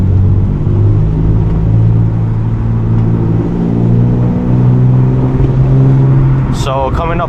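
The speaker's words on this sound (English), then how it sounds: "just did a little downshift and rev matching" Nissan 350Z heard from the cabin cruising with a steady low engine drone, then a quick heel-toe downshift blip near the end as revs rise sharply and fall, close and fairly loud.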